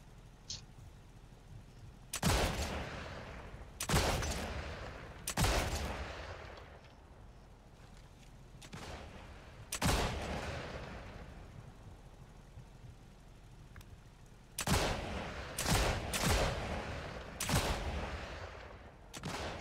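Video game gunfire during Operation Marmot: loud bursts of shots and volleys come in irregular clusters over a steady low background rumble, with no voices.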